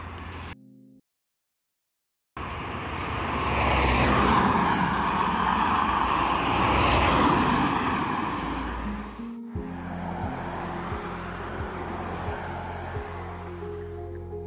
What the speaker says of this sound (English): Lots of cars racing by.